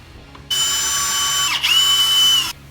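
A power drill spins up for about two seconds, whining steadily with a brief dip midway, while removing Phillips screws from a Honda Accord dashboard.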